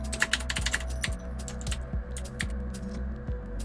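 Quick, uneven keystrokes clatter on a computer keyboard nearby, a steady stream of sharp clicks with no talking.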